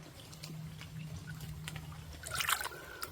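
Water trickles and splashes into a container at a wet woodland camp, a faint steady dribble that rises into a brief brighter gush near the end, with a low hum beneath.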